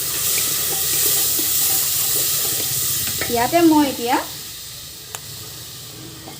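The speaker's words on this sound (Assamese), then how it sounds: "অকণমান পানী দি দিছোঁ ইয়াতে মই মছলাখিনি ভালকৈ সিজিবৰ কাৰণে।" Water poured onto spices frying in a pan, a loud, steady hiss that fills the scene, with someone briefly speaking over it partway through.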